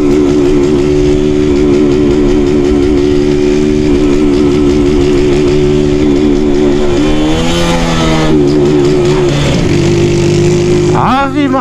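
Loud motorcycle engine rumbling through a raspy modified exhaust, idling steadily then revving in rising and falling bursts up close.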